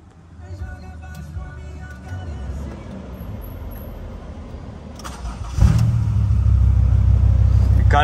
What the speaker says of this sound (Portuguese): dá pra ouvir muito a turbina dela, tipo, muito mesmo